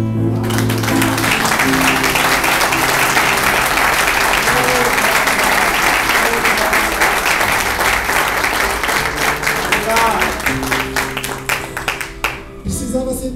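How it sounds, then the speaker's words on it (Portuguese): Church congregation applauding during a Lord's Supper service, loud sustained clapping from a large crowd with voices and shouts mixed in, tapering near the end. "Aplauda o Senhor, querido."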